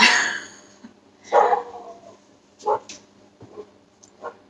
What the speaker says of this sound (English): The dogs are freaking out.